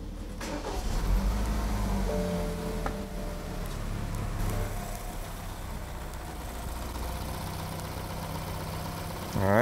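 A BMW car's engine fires up and settles into a steady idle, a low continuous rumble that stays even and moderately quiet throughout, with a brief louder burst at the very end.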